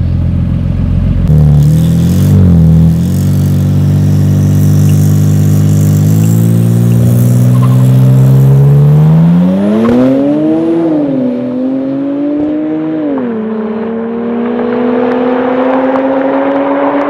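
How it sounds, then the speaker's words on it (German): Modified cars in a half-mile race, such as a Golf 4 R30 Turbo and a twin-turbo Huracan, with a loud engine climbing steadily through the gears as it accelerates hard and pitch rises over a long pull. "Also der Olli fährt jetzt hier mit einer 278, 42 gegen eine 240"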